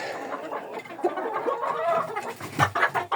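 Hens inside a chicken coop on a snowy winter day, heard as close, low murmuring clucks and a few sharper calls over a few seconds, with no talking.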